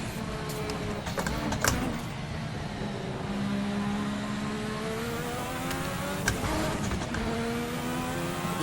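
A turbocharged V6 engine in a 1986 Formula RSS car from the Assetto Corsa video game revs hard and close, rising and dropping in pitch through abrupt gear changes, with light clicks and no voices.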